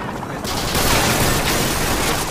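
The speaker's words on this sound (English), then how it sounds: "They're shooting right behind me." Dense automatic gunfire and bursts from the Call of Duty Modern Warfare 2 campaign in Brazil, loud and nearly continuous after a short lead-in, rattling close behind the player.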